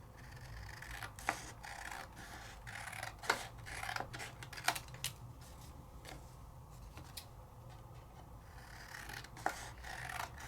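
Scissors trim paper by hand, close up, in a quiet room: a series of sharp, crisp snips at irregular intervals, with soft rustling of the paper between cuts and no talking.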